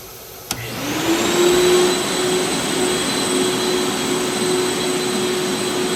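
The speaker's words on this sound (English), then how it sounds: "once I turn this on, you'll see how strong the suction is" A CNC vacuum table's suction pump switches on with a click and spins up to a loud, steady whine that holds without a break.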